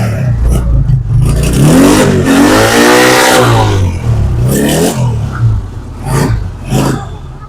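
A used motorcycle with a double silencer runs close by, its engine swelling into a loud rev before settling back to a rougher, uneven running note, with faint background chatter.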